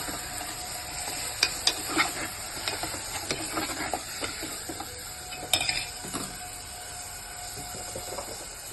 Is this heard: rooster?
no